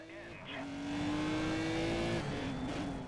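A race car engine in the PC racing game GRiD drones loudly as it accelerates, a steady rising tone held for a couple of seconds before easing, with a voice talking over it.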